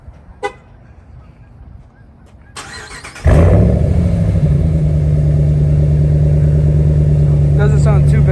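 A truck with a carbon exhaust and cold air intake starts and settles into a loud, deep, steady rumble close by, after a few seconds of quieter ambient noise.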